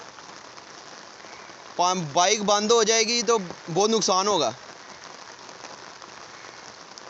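Heavy rain and floodwater rushing through a flooded colony street in Sialkot make a steady, even hiss throughout, with someone talking loudly over it in the middle.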